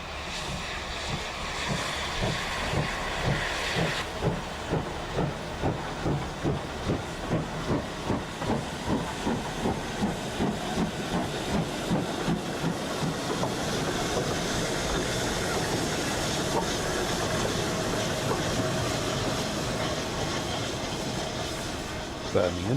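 Steam locomotive 4965 Rood Ashton Hall on a Birmingham line works hard with loud, rhythmic chuffing exhaust beats and hissing steam that speed up and then merge into a continuous rush, close by, with voices faintly heard.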